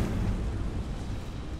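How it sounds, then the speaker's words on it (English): A continuous deep rumble of an explosion in the space strategy game Battlefleet Gothic Armada II, a loud, dense roar with no clear attack that holds steady throughout, with no voices over it. "Come on, get out of range of that explosion."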